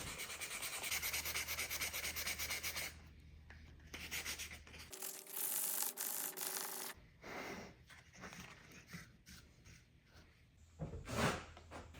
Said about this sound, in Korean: 손으로 모서리를 열심히 사포질해 줍니다.